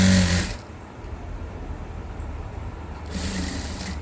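A sewing machine stitches a straight line on a nighty in two short loud whirring bursts at the start and end, with a quieter pause of low hum between them, close up and with no talking.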